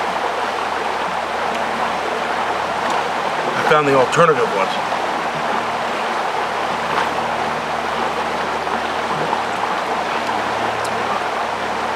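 River rapids rushing in a steady broadband wash, heard under someone talking with a brief louder splash partway through.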